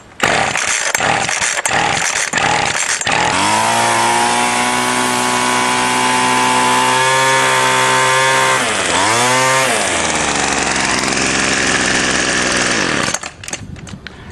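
A small two-stroke weedeater string trimmer engine sputters through a few start attempts, then catches and runs loud and steady at a high buzzing pitch, dipping briefly as the throttle changes before cutting off.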